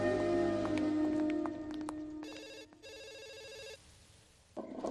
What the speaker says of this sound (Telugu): చిత్ర, ఫోన్ ఎవరితో చూడు